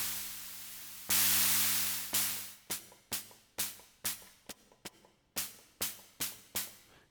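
A Roland TR-606 drum machine's synthesized noise voice hisses, first as a long burst, then as a series of short, decaying hi-hat-like ticks in an uneven rhythm, with a low hum beneath.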